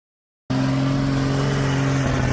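Alvis Stalwart amphibious military truck off-roading: after half a second of silence, a loud, continuous engine drone cuts in with a steady low hum, close and unbroken to the end.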